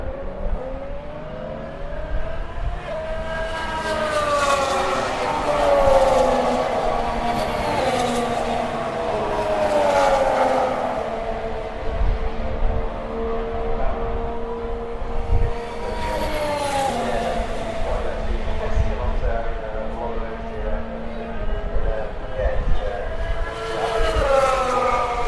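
Formula One cars racing at the Silverstone circuit, heard from the grandstand: continuous loud engine drone with rising and falling whines as cars pass in waves, crowd and circuit ambience underneath.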